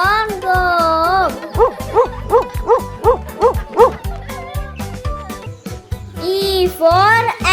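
A dog barking in a nursery-rhyme phonics song, a run of about seven evenly spaced yips and barks mixed in with sung children's music and a voice.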